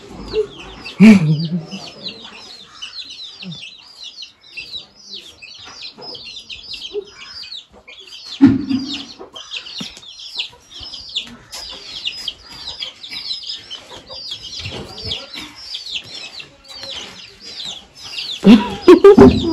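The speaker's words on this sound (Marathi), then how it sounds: "कुठली पद्धत आहे कोंबडी पकडायची?" A village hen in Dapoli, Konkan, clucks and squawks in rapid repeated bursts while being chased and caught, loud and close throughout, with brief voices breaking in now and then.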